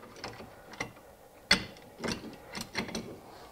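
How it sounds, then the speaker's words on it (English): A clamp is loosened after compressing the brake caliper piston on a 2002-2007 Jeep Liberty front brake, giving a few quiet metallic clicks and ratcheting turns at an irregular rhythm, close by. "Then just loosen your clamp back up."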